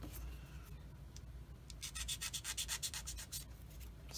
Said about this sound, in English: Sand it so there's not a little bit of residual sprue gate, like that.